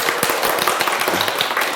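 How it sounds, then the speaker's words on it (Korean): Brief burst of applause during a Korean real estate agent exam lecture, a dense wash of clapping hands heard at close range without talk. "박수 한번 드리죠"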